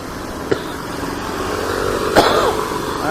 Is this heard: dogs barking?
no